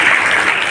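An audience at a public cheque-distribution event applauds in a brief, loud burst of dense, continuous clapping.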